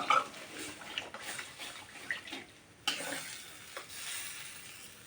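Water poured into a frying pan while cooking fish roe, a soft hissing sizzle and splashy rush, quiet and close, with a sharper surge partway through.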